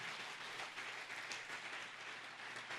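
Congregation applauding the Holy Spirit during a church service, a quiet, dense wash of clapping heard at a distance, even and sustained.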